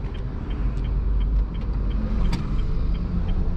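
A steady low engine rumble from a Honda Mobilio with manual transmission idling at the roadside with air conditioning on, constant throughout with faint traffic noise in the background.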